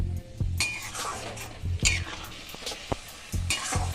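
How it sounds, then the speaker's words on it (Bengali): Garlic, ginger, onion and chopped tomato being sautéed together in a pan for an omelette curry, with a soft sizzle under scattered clinks and scrapes of a spoon stirring against the pan. "আমি একসাথে দিয়ে ভালো করে কষিয়ে নেব তাতে রসুন আদা আর পেঁয়াজের কাঁচা গন্ধটা থাকবে না"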